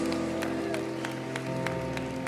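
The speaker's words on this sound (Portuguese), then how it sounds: "Palmas que engrandece ao nome de Jesus." Church congregation clapping during a morning service, a steady run of claps across a crowd at moderate distance, heard over sustained organ-like tones and background voices.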